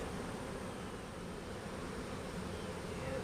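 A dense, steady buzzing of many honey bees fills the air, continuous and close, with no voices.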